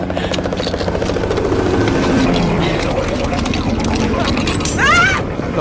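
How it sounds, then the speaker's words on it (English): Helicopter rotor thrum in an action film scene fills the soundscape, steady and loud, mixed with busy action sounds and talking voices, with a rising whine near the end. "bring the chopper in from the back"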